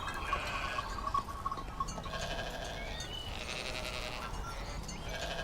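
Sheep bleat over farm fields in an old Canaan setting. Several wavering calls overlap near and far, some faint and some clear, with a steady outdoor hiss under them.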